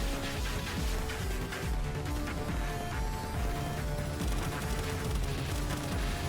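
Gunfire in Palworld, a sustained rapid barrage of shots with sharp repeated cracks layered over game noise, loud and continuous.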